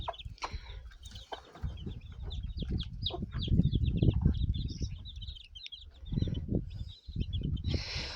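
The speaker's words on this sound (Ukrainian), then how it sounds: "ось подивіться, старшенькі курчатка, вони з інкубатора" Shamo fighting chickens and young incubator-hatched chicks cluck and chirp in a farmyard, with steady overlapping calls, some brief louder squawks and continuous high chick peeping throughout.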